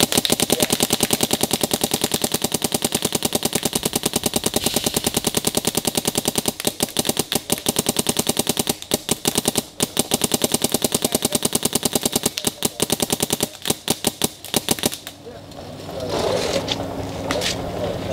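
A Planet Eclipse Etha 2 paintball marker fires rapidly in long, fast-cycling strings of shots, loud and mechanical, with brief gaps before it falls quiet near the end.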